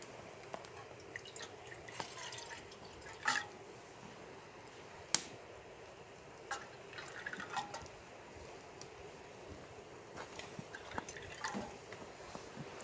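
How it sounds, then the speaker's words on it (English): Water poured into a pouch of dehydrated fettuccine Alfredo at a campsite: faint trickling and scattered drips, with soft crinkles from the pouch, quiet and close, and no voices. "there I've put in approximately 1 cup of water"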